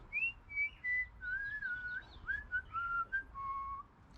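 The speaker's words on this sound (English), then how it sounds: "I love to whistle." Someone whistles a wandering melody alone, a series of clear sustained and sliding notes in short phrases with brief gaps, fairly soft and close, during a 2011 Chevy Silverado oil change.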